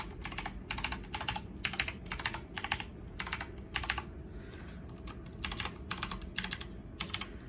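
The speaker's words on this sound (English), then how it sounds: "if you are okay with a lot of clicky noise" Fingers type on a Redragon K551 mechanical keyboard with clicky blue switches, producing rapid bursts of crisp, loud key clicks in an uneven rhythm over a low background hum, with no voices.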